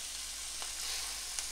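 Chicken pieces frying in olive oil in a pan give a steady, quiet sizzle throughout, with a couple of faint clicks and no talking.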